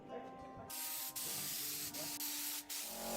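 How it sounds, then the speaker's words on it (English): Sanding on the body panel of a restored 4WD Nissan pick-up, a steady, loud abrasive hiss after a brief quieter start, broken by a few short pauses. "The long, patient process of sanding begins once more."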